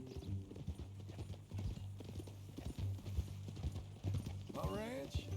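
Horse hooves clip-clop at a steady walking rhythm in Red Dead Redemption 2, close and even, with a short whinny near the end and people talking over the steps.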